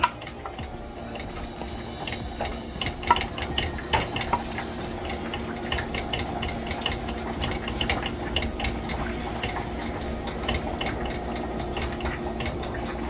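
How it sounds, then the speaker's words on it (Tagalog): Feta pasta with shrimp being mixed in a pan, a steady soft scraping and clinking of utensil against cookware with faint sizzling, continuous and moderately quiet, with no talking. "I-mix natin siya ng konti."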